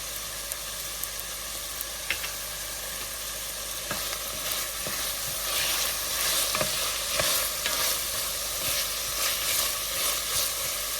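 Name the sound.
scallions frying and being stirred in pan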